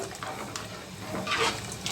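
Water pours into a mixer jar while making moong dal sambar, a short trickling splash that swells louder near the end, with no voices.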